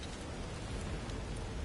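A desert storm rages in Alfheim in a video game, a dense, steady roar of wind-driven noise with a rain-like hiss filling the short stretch without a break and no voices.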